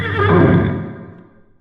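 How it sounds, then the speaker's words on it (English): A single loud, close horse neigh, a bright whinny that rises and then trails off over about a second and a half, heard alone. "the horse neighed, as if in invitation to the rider"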